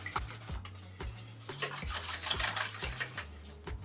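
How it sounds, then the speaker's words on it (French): Coconut milk being whisked into a flan mixture of condensed milk in a bowl, with quick regular strokes scraping and tapping about three times a second, close and steady, with no talking. "On y ajoute le même volume de lait de coco. On fouette également."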